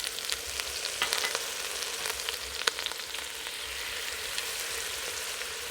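A beef roast sears in oil inside an Instant Pot, with a continuous soft sizzle broken by sharp, scattered pops and crackles, heard close with no voices.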